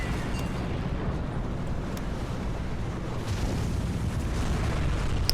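Distant naval gunfire in a Hearts of Iron 3 surface battle, ships firing from about 14 kilometres out, heard as a steady low rumbling roar with soft booming swells and no distinct individual shots.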